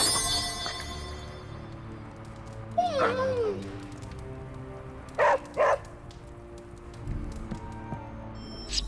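A dog in the Marvel's Midnight Suns video game gives a few short barks and a yelp in two clusters, mid-distance over a low ambient game soundtrack, with no talking.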